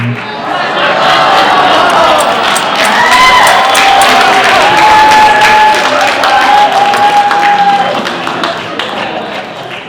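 Audience at a steampunk-style cosplay contest cheers and applauds loudly and steadily, with whoops and a few shouting voices rising above a dense wash of clapping.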